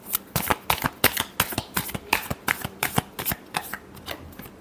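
Tarot cards are shuffled by hand in a quick, steady run of crisp riffling slaps, close and clear, with no voice over them.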